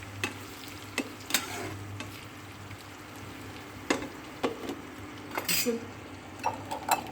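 Eggs beaten with salt for an omelette, a utensil scraping and clicking against the bowl in scattered quick strokes, fairly close and unaccompanied by talk.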